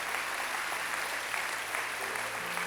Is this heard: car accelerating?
no